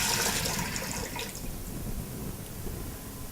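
Water pours into a cooking pot for soaking moreus beans, a steady gushing splash that starts loud and settles into a softer continuous fill, with no talk.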